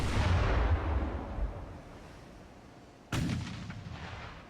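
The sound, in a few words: warship gunfire in video game Ultimate Admiral: Dreadnoughts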